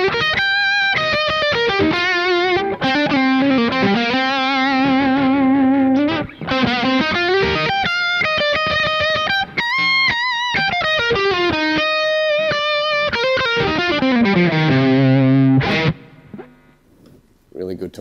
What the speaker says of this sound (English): This one is a profile of a Van Weelden Gain Man. It's a Dumble-esque thing, so it's a really thick and thick gain structured.